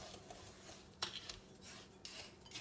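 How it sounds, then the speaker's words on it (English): Pepper, salt and sugar stirred together in a bowl for a turkey brine, with soft scraping and light clinks of a utensil against the bowl, close and quiet. "We're going to quick give that a little stir so they start to come together."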